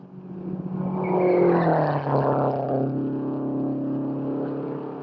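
Race cars roar past at the 1958 Indianapolis 500, with Bryan and Bettenhausen running inches apart down the main straightaway in a loud, sustained engine drone that swells and then slowly fades.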